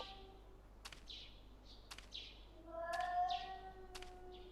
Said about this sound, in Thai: ทุกคนฟังครับ เสียงแมว